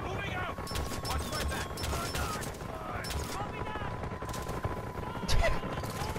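Rapid gunfire and fusillades crackle through Far Cry 4 gameplay, with dense bursts of shots over a steady game soundscape and a louder blast near the end, while a player talks over the action.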